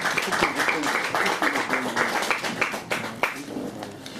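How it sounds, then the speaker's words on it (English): Applause from an audience at a Q&A event in Manchester, a dense steady patter of many hands clapping throughout with some crowd noise mixed in. "So if we can give them another round of applause,"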